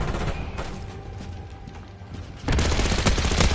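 Sustained light machine gun fire in Black Ops 6, with dense rapid bursts that grow louder and heavier about halfway through, close and continuous with no talking.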